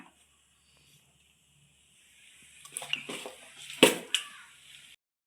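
Wet squelching and sloshing as a ground coconut curry paste with salt is mixed by hand, starting after a silent pause and growing into a few louder splashy bursts.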